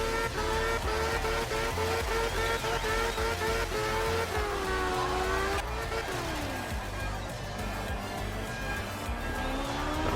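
Race car in a driving video game spinning out, high-revving engine howling with shifting pitch and tire squeal as it loses grip, loud and continuous throughout, with engine tones dropping and sliding through the spin.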